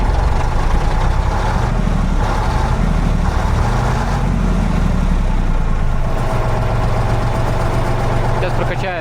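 A ZIL truck engine runs at a loud, rough, steady idle, filling the whole stretch with a heavy low rumble, close by and with no other sounds standing out.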